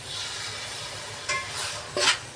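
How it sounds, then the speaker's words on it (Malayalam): Biryani masala being stirred with yogurt in a pan, a soft continuous scraping and faint sizzle with a couple of brief louder spoon strokes near the end. "ഇത് നന്നായിട്ട് ഇളക്കി കൊടുക്കാം."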